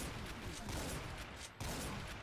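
Rapid bursts of gunfire in Doom with the Project Brutality mod, dense overlapping shots hammering almost continuously for about two seconds with a brief break near the end, fairly loud and with no talking over it.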